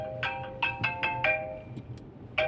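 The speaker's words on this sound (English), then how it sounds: "Why are they ringing me on a Sunday?" A phone rings with a repeating electronic tone on a quiet Sunday, several evenly spaced trills at moderate volume, with a radio news broadcast faintly underneath.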